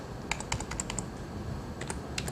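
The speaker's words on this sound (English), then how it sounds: "I enter either the author name of the article or a keyword within the title" Typing a search keyword on a computer keyboard produces quick, faint clicks in short bursts with a pause between them, heard close up in a quiet room.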